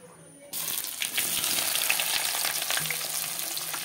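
Onion and bay leaf hit hot oil and break into a loud, steady sizzle that keeps frying close by after an abrupt start, with faint stirring under it.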